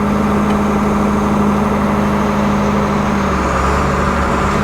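A vehicle engine running steadily in fourth gear during a transmission pressure test, with a constant loud low drone and harmonic hum throughout, no talk.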